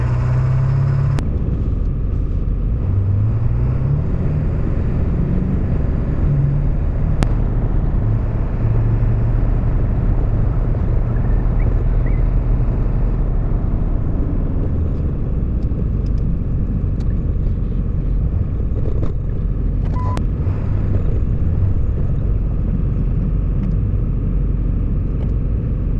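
Inside a 2003 Ford F250 4x4 with a 7.3 Powerstroke diesel on the road, a continuous loud, low road-and-engine rumble drones throughout, with occasional faint clicks and knocks.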